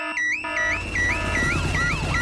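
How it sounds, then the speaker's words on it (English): A cartoon house alarm blares close and loud, a warbling electronic siren that repeatedly sweeps up and down in pitch over a low rumble. "Daddy Pig has set off the noisy house alarm."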